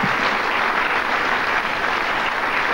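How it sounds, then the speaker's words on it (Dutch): A Dutch TV studio audience on a Tros talk show claps in a steady, dense wash of applause that holds at an even level throughout, with no voices over it. "Het applaus kwam spontaan, hè? Hoor je dit?"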